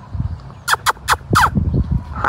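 Chickens on a small farm with cows and dogs cluck in a quick run of four loud, sharp calls, close by, then softer murmuring clucks trail off.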